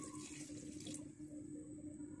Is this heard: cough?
no